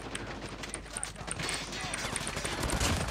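Rapid gunfire from Call of Duty Mobile, in a Christmas-themed mode, crackles steadily with dense bursts building toward the end, heard beneath excited talk from players.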